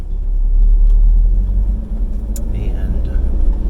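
A car rolls slowly over rural land with a deep, steady low rumble from inside the cabin and faint rattles, while someone talks over it.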